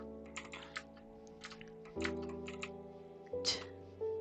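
Close, crisp clacking of keys on a computer keyboard, typed in quick irregular bursts over a steady low background hum from a modded game, with no talking.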